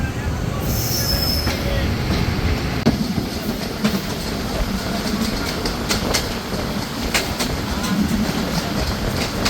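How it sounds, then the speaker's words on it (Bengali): A local train leaving Chapainawabganj railway station grinds along with a continuous rumble, repeated wheel clicks and sharp squeals, loud and close for the whole stretch. "পাঁচটা পনেরোতে ছেড়ে যাওয়া লোকাল ট্রেনটি ধরে আমরা চাঁপাইনবাবগঞ্জ রেলওয়ে স্টেশন ছেড়ে যাচ্ছি"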